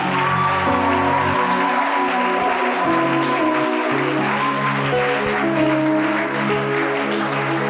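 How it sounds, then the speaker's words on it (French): Audience at a biblical church conference applauding steadily and loudly throughout, a dense wash of clapping with some cheering mixed in and a voice or music faintly underneath. "Je veux qu'on acclame aussi l'apôtre Yann Kwakofi."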